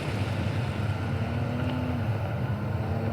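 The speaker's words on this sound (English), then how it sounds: "you can start to hear the car revving, and it sounds like it's in the distance" A 2022 Audi RS3 revving far off, heard as a low, continuous engine drone that rises slightly in pitch under a steady wash of broad, wind-like noise.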